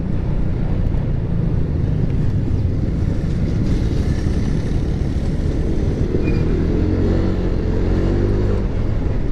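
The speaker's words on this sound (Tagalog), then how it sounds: "Ang daming sasakyan." Dense road traffic with many vehicles on a congested Philippine road, a steady loud rumble of engines close by filling the whole stretch without a break, with no talking.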